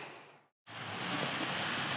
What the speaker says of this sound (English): It is still pouring with rain the next day, so we have decided to stay put today.